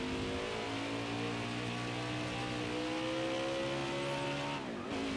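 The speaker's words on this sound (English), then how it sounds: "Heavy on the brakes into this corner." A race car in NASCAR Heat 5 on the Indianapolis road course, its engine screaming at a steady high pitch before it drops sharply as the car brakes hard into a corner.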